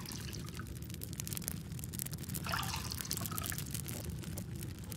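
Watering in the farming video game Farmer's Life, a steady, fairly quiet trickle and pour of water running continuously for several seconds, with no voices over it.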